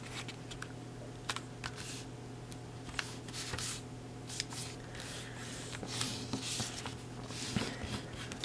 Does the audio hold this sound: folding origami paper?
yes